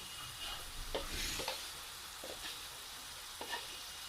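Salt, chili, turmeric and cumin powders stir-fry in a pan for an egg and potato curry, a close, soft sizzle broken by several sharp spoon scrapes and stirring knocks, no voices.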